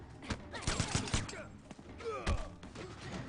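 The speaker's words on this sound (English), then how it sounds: "And those gunshots, I forgot what they are." A quick burst of several gunshots from a character's move in the Mortal Kombat fighting video game, sharp close cracks and thumps in a rapid uneven cluster amid game effects.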